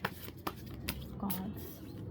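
Yogic sattvic oracle cards are shuffled in the hands, a few soft riffling flicks and taps close up, with low speech in the background.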